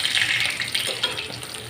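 Chicken frying in a pan until burnt, a steady close sizzle and crackle of hot oil running without a break, with no talking.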